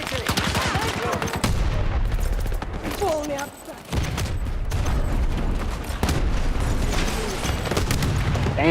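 A shooter video game plays dense, loud gunfire and booming explosions. Rapid volleys and blasts continue nearly nonstop, with a short dip partway through, and a voice talks over them.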